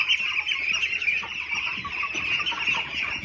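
Young meat-bird chickens cluck steadily in a farm bird enclosure near ducks, a dense, continuous flock chatter close by with no talking.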